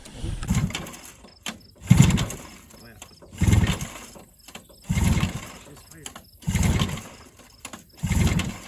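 An old snowmobile engine with electric start fires and runs, giving a rhythmic series of loud chugging bursts roughly every second and a half, with people talking nearby.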